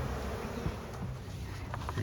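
Honey bees buzz around an opened beehive from a queenless split, a steady close hum with a few individual bees droning past, no talking.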